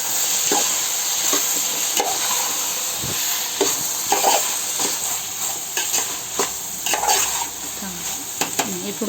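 Brinjal and tomato curry being stirred as it fries in a pan, a constant hiss of sizzling with irregular scraping and clinks of the spoon against the pan, close and busy.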